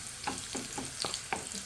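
Onions fry in a pan with a steady, hissing sizzle, broken by four or five soft stirring scrapes at a relaxed rhythm, close and without voices.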